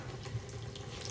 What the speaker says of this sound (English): now what we're going to do is we're going to dump this water here